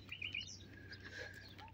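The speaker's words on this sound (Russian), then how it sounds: "Вот там птички поют." Birds chirp in short bright tweets over faint background noise along a seaside embankment in Taman.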